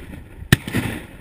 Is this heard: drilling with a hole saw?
no